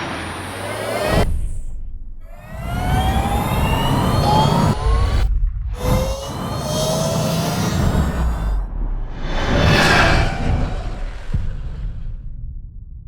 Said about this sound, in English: What you just heard is the F77 Mach 2.